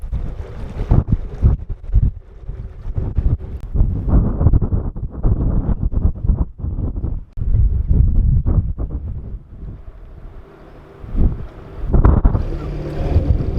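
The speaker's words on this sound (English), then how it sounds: "You can hear and see how windy it is" Strong winter storm wind on the Llangollen Canal buffets the microphone in loud, rumbling gusts that surge and drop repeatedly, with brief calmer moments between.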